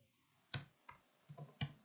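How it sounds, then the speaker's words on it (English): Several light, sparse keystrokes on a computer keyboard, quiet and close, tapping out a short command with uneven gaps. "now I will simply type"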